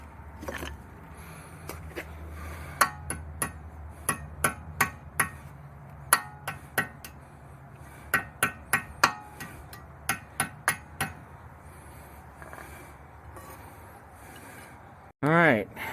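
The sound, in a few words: hammering in Hyundai Sonata transmission output shaft seal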